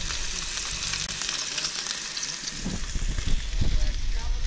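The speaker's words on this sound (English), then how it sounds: "We got more food cooking." Food frying on a campsite cook setup, a steady loud sizzle and crackle running throughout, with some stirring and scraping clatter toward the end and no talking.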